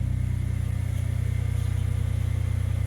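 A Nissan Pathfinder engine idles slightly rough, a steady low mechanical hum with a faint rhythmic pulsing, close and continuous with no talking.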